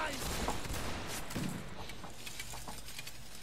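Musket volley fire in a Napoleonic Wars siege battle in Mount & Blade: Warband, a ragged crackle of shots and a couple of sharper reports under continuous battlefield noise and players talking.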